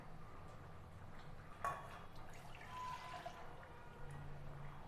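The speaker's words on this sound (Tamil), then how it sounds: "பருப்பு தண்ணி ஊற்றிடலாம்." Lentil cooking water pours into a pot of homemade rasam seasoned with salt, rasam powder and crushed garlic, making a faint, steady liquid splash with a soft thud early on. No one speaks.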